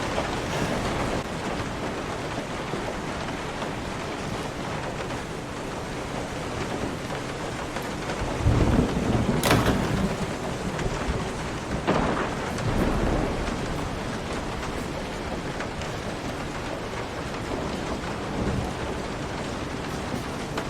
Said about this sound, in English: It is now nighttime and raining.